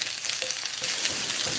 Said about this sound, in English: Ooh, it's going to be some loud sizzle.